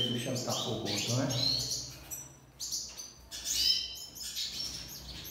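Curió birds, a female reacting to a male: bright, high chirps and short whistled calls in quick bursts, close and clear, with a brief pause between phrases and faint low background sound.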